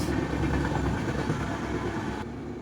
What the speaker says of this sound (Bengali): ট্রেন গেলে তো কিছুই কথা শুনতে পাওয়া যায় না